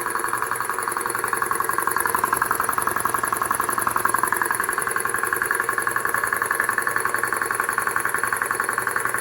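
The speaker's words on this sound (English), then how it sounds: "I mean, it's not silent by any means, but it's pretty bearable as far as an air compressor goes." A repaired vintage air compressor runs steadily and fairly quietly, a continuous mechanical hum with a fast, even pulsing throughout, alone with no talk.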